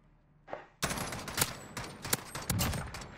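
Video game gunfire in a Search and Destroy match, a sharp first shot followed by a rapid, loud burst of automatic fire with several punchy peaks, close and without talking.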